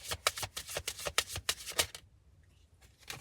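Oracle cards being shuffled in a rapid run of crisp riffling flicks, close and fairly loud, then a pause with a final soft card sound.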